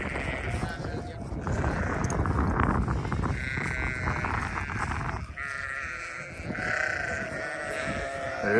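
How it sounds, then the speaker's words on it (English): Flock of sheep bleating at morning feeding time on a rural Kentucky ranch, with hay brought by draft-horse wagon; many overlapping calls, near and loud, steady throughout while a person talks over them. "we're going to feed the sheep here this morning with them"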